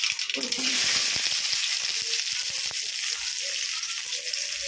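Onions frying in hot oil with mustard seeds and dal for a brinjal kara kuzhambu, a dense, steady sizzle with faint clinks and scraping of stirring throughout.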